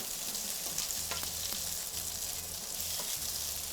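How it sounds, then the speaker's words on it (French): Veggie burger patties fry in a pan with a steady, close sizzle and crackle, with occasional scraping stir sounds and no talking. "Quand ça commence à bien frire comme ça, là, c'est-à-dire que ça se tient bien, hop, on retourne"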